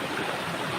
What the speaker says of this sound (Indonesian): pancuran air